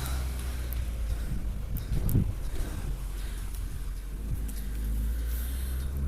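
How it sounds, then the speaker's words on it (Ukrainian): Steady broadband wind rushing and buffeting against the microphone, with low rumbling gusts that swell and ease throughout; a cold northerly wind. "Вітер вивертається, робиться північним і холодає."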